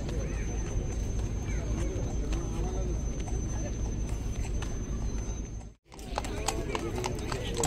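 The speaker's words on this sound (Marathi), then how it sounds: "राजाचा घोड्या आहे" Horse hooves clip-clop steadily on pavement outside the Malaysian king's palace on the eve of his birthday, amid crowd noise and talk, with a brief drop-out near the end.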